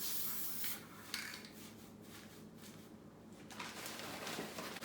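Hissing spray bursts onto a pumpkin covered with moss come in short pulses against a quiet rustling background, close and fairly soft.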